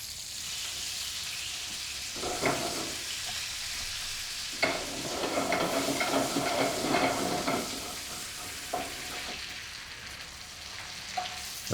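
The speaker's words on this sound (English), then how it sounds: "I'm going to cook it on a pan because it's not that a big piece of meat" Venison sizzling in a pan, a steady hiss of frying fat with bursts of louder crackle and occasional scraping stirs, close and moderately loud, no talking.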